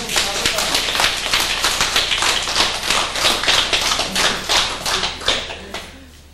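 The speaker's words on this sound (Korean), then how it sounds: "박수 좀 쳐." An audience at a Buddhist sermon on the Vimalakirti Sutra claps in a run of sharp, rhythmic bursts, loud and close, before the applause fades away near the end.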